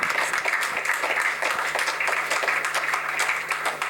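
At an award ceremony, an audience claps in a dense, continuous burst of applause lasting a few seconds, with no pause in the clapping.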